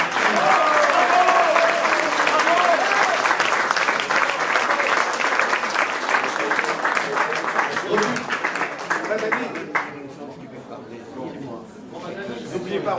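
A crowd applauds at a tribute event in Grasse, with sustained dense clapping that carries on for several seconds before thinning and tapering off, while voices speak over it.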